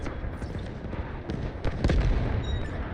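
Artillery barrage in a video game, a dense rumbling wall of overlapping booms and blasts with sharper near bursts rising toward the end, continuous and loud throughout.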